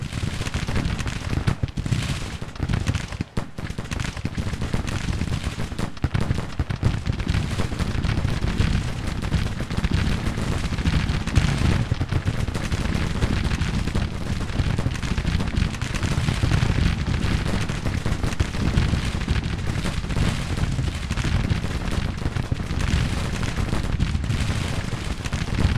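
Musket volleys and cannon fire fill a Civil War battle video game, a dense continuous roar of massed gunfire and booms with no clear pauses.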